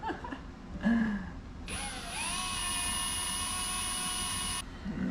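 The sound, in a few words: power drill drilling headlight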